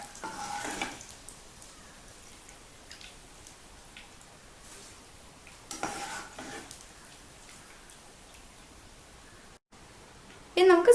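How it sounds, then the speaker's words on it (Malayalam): Kerala spicy mixture fries in hot oil with a soft, steady sizzle and a few louder crackling bursts, while a voice talks over it. "ഇത്ര ഫ്രൈ ചെയ്താൽ മതി."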